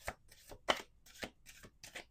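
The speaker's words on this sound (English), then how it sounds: "Let's do 2 more shuffles." Tarot cards riffle and snap in quick bursts, about six brisk shuffling strokes close to the microphone with short pauses between.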